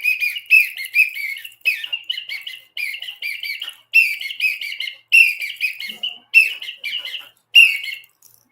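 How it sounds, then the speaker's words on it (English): A special whistle blown loud and close in about eight short bursts. Each burst is a warbling, bird-like trill, separated by brief pauses, with nothing else heard. "It is special whistle."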